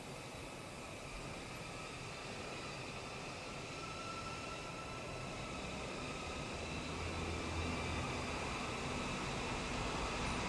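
A BETAFPV Cetus Pro FPV drone flies outdoors in normal mode, its steady high-pitched propeller whine and broadband rush holding level and fairly loud throughout, with wind noise and no speech.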